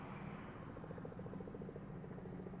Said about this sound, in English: Oh, I hear a helicopter.